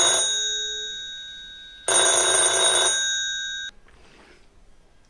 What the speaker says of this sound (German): Es gibt nur einen einzigen Klingelton, den habt ihr vorhin gehört